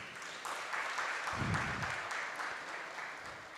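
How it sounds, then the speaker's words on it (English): A crowd claps steadily for a few seconds, a dense, even patter of applause heard from a moderate distance. "A round of applause, please."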